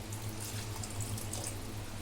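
Water pours steadily into a pot for Sindhi fenugreek rice pulao, a continuous faucet-like splashing stream with a low hum underneath, close and even throughout.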